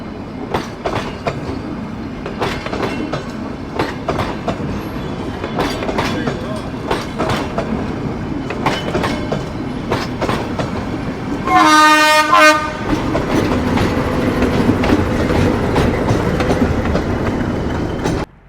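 A toy train rolls along with a steady, rhythmic clatter of wheels, then sounds one long horn blast partway through before the rumbling continues.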